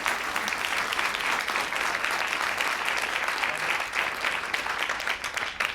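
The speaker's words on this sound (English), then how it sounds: "let's go ahead and give a round of applause" A conference audience at an asteroid initiative industry and partner day gives a steady round of applause, dense clapping filling the room at even volume throughout.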